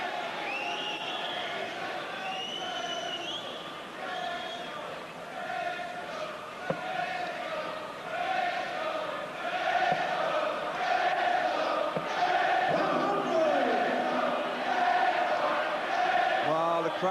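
A 1984 News of the World darts quarter-final crowd chants and sings in a loud, sustained, rhythmic roar. A commentator talks over it as the chanting swells toward the end.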